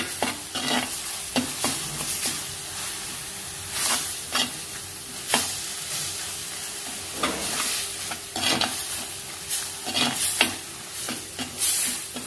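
Potatoes and dry red chillies fry in a pan for an onion-spiced aloo fry, with a constant sizzle broken by repeated sharp scrapes and knocks of a spatula stirring them, close and fairly loud.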